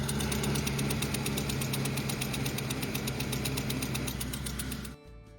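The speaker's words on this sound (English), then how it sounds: "Customer states, knocking sounds from engine." A truck engine overfilled with about five quarts of oil knocks steadily at idle, a loud close rapid rhythmic ticking over a low rumble that cuts off abruptly near the end.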